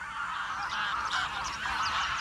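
Wild greylag geese honking by a river, a dense overlapping chorus of many birds calling continuously, fairly loud and close.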